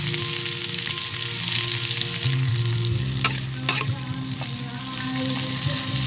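String beans, bottle gourd, eggplant and chayote sauté in a hot pan with a loud, continuous sizzle, broken by scraping strokes of a utensil stirring the vegetables.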